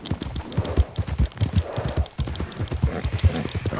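A horse gallops in Red Dead Redemption 2, its hooves beating in a fast, steady clip-clop rhythm, close and clear with no talking.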